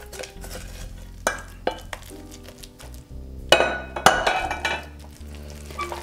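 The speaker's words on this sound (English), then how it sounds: "And then we'll mix this all up together." A spoon stirs a veggie burger mixture with oatmeal in a bowl, scraping and clinking against the sides in uneven strokes, with a louder burst of mixing toward the end over a low steady hum.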